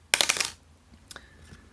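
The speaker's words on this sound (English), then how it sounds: "So I'm now going to roll the dice and let's see what's here." A pair of dice tumbles and clatters across a hard surface in a quick, close, bright burst of rattling hits, followed by a couple of faint settling taps.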